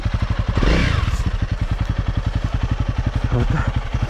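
A motorcycle engine runs through mud with a steady, rapid thumping beat and clattering over it, loud and close, and briefly swells in the middle.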